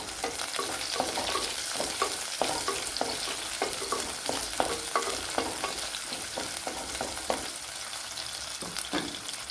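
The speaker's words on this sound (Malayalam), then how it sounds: "ഒരു ടീസ്പൂൺ ഇഞ്ചിയും കൂടെ ചേർത്ത് കൊടുക്കാം അതേപോലെ ഒരു പതിനഞ്ചല്ലി വെളുത്തുള്ളി അതും കൂടെ ചേർത്ത് കൊടുക്കാം" Ginger and garlic frying in a pan, a steady loud sizzle broken by repeated scraping stirs, with no voices.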